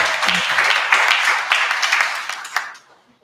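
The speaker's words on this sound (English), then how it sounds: "Give them another big round of applause." An audience at the African American Day Parade press conference gives the founding members a round of applause, lively hand clapping that holds steady, then trails off into quiet.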